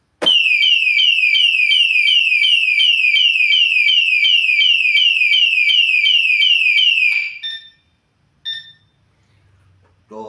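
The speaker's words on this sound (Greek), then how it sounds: "αντέδρασε και πέρασε σε ένα αποτρεπτικό συναγερμό με μια υψίσυχνη σιρήνα" A Moto Alarm anti-theft system on a Benelli TRK 702 X motorcycle shrieks with a piercing, rapidly repeating sweeping siren for about seven seconds, then cuts off, followed by one short chirp.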